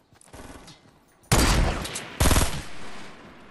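Fortnite gunfire, two loud bursts of rapid shots close by, separated by a brief pause, with quieter game sounds before and after.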